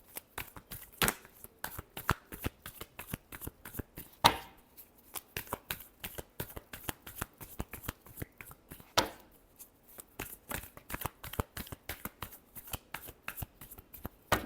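Tarot cards being shuffled by hand in a riffle of rapid, crisp snapping bursts that repeat steadily throughout, close and fairly quiet.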